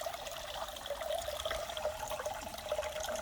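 Water from a pump-fed backyard pond waterfall pouring down a small stream into the pond, a steady, moderately close splashing and trickling wash with no talk.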